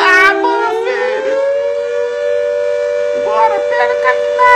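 A loud, sustained warning siren sounds before a demolition blast on a BR 381 highway bridge, holding a steady tone while excited voices talk over it.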